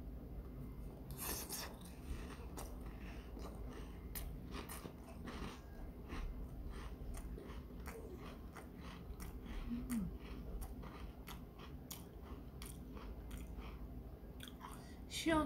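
Close, continuous crunchy chewing of lemon-flavored Ritz crackers topped with apple jelly, with many sharp crackly bites, steady throughout at a low level.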